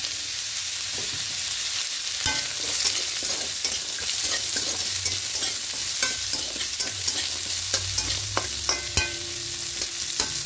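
Eggplant and pumpkin pieces frying in oil tempered with dry chili and black mustard seeds, a steady close sizzle with repeated spatula scrapes and clinks as the vegetables are stirred, no speech.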